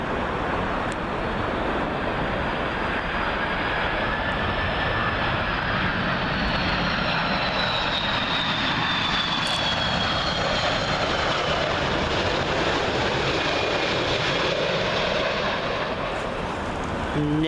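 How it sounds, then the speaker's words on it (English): An Air Algeria Airbus A330 arriving from Algiers at Heathrow Airport rumbles with a long, steady engine roar and a faint whine that drifts past, sustained and distant throughout. "Air Algeria A330."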